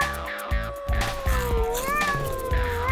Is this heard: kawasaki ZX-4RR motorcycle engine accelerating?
no